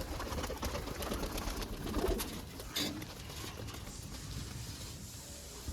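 Soft pigeon cooing against a steady outdoor background hum, low and somewhat distant, with no voices.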